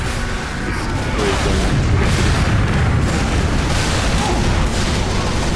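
Rocket launcher blasts in the game Team Fortress 2, a dense run of loud low booms and bursts filling the whole stretch with continuous rumbling battle noise and no clear pauses.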